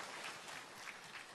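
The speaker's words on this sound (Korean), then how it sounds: "큰 박수로 맞이해 주세요." An audience applauds as a speaker is welcomed onto the stage at a product presentation, a steady wash of clapping heard faintly and from a distance.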